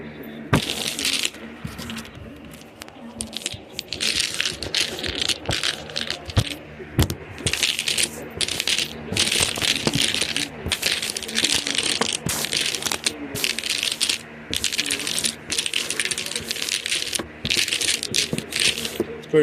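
Dominoes being shaken and shuffled on a table before a new game, a dense, continuous clatter of tiles knocking and sliding together for many seconds, close and fairly loud, with no clear talking.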